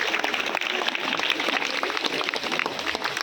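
A crowd at a church feast celebration claps for participants, a thick, even wash of many hands, moderately loud and steady for the whole stretch, with no voices on top.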